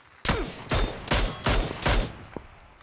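Gunfire in the battle royale video game PUBG: four or five bursts of rapid automatic shots, moderately loud and evenly spaced, followed by one faint single shot, with no voices.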